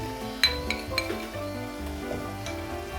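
A spoon stirs ginger garlic paste into chicken liver frying with onions in a metal pan, giving close scraping clinks and knocks over a soft sizzle, with no one talking.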